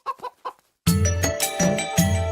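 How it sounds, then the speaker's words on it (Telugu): A hen clucks in a few quick, close bursts, then a loud, dense wash of music and noise takes over. "కోడి దూకింది చూడు"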